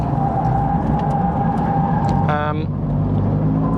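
A Toyota MR2 driving on the Snetterton race track, heard from inside as a loud steady engine drone with road and wind noise. A brief tonal burst rises above it midway.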